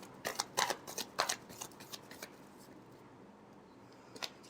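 Tarot cards shuffled by hand, a burst of quick crisp riffling snaps that thins out into faint rustling, close and quiet, with a brief flick near the end.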